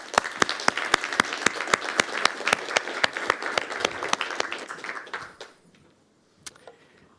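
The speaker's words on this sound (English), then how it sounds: "Give him a big round of applause." Audience applause at the MCB Hack 2021 event: a crowd claps in a steady, dense patter of sharp hand claps that fades out toward the end, followed by a couple of stray claps.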